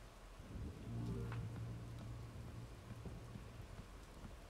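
Rain pours steadily in the video game Bugsnax, with a low rolling thunder rumble swelling near the start and fading beneath the continuous hiss of rainfall.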